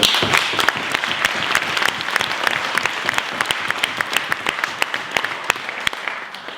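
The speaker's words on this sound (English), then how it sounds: "Give a warm round of applause to Lee." An audience applauds at a parliamentary meeting on Black incarceration, steady dense clapping from a crowd, loud and continuous throughout with no voices.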